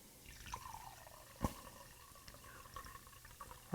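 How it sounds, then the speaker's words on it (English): Wine is poured into a plastic wine glass in a short, quiet trickle with faint drips and one sharper tap near the start. No talking. "I'll just pour"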